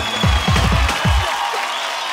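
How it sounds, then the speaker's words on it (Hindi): Audience clapping and cheering for Priyanka Chopra at the Umang 2022 stage show, a broad crowd roar with low rhythmic vocal bursts riding over it early on, then easing into fainter sustained applause. "पीसी के लिए जोरदार तालियां हो जाएं।"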